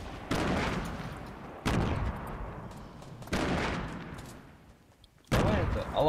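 Four heavy, booming gunshots in Fortnite, spaced a second or so apart, each with a long echoing tail.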